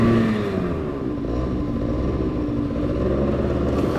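A TGB snowmobile with a Marini engine revs hard while ploughing through deep snow, a loud continuous droning engine roar that stays close and steady throughout.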